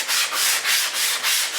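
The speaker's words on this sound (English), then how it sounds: "Hand sanding now." Wooden cabinet door pieces being sanded by hand, each back-and-forth stroke making a close, raspy scrub; about five even strokes in quick rhythm with no voice.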